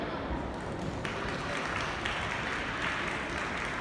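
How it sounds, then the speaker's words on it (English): Crowd at a horse-training demonstration claps for a rider after a confidence session with trailers and tarps, a continuous wash of applause heard from a distance under faint murmuring. "Those applause are for her"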